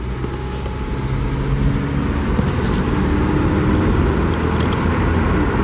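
A Nissan Hardbody D21 automatic pickup truck drives along, its engine droning steadily and loud from start to finish, rising slightly as it shifts through the low gears, with road noise underneath.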